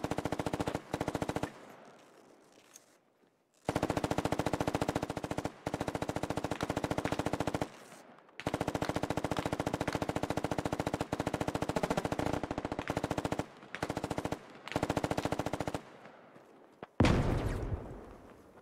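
Rapid bursts of automatic gunfire from the video game SquadOps, firefight with repeated loud volleys separated by short pauses and a sharper blast near the end.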